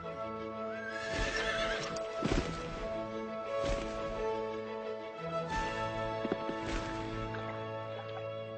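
A horse whinnies loudly more than once, with clopping hooves and thuds around it, no talking.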